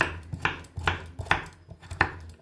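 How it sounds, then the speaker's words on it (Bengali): A knife chops potatoes finely on a board for ghugni, about six evenly spaced sharp taps with faint scrapes between them, close and moderately quiet. "তো আলুগুলোকে আমি দেখুন কেটে নিচ্ছি।"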